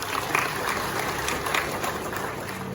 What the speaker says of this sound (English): We clap for that.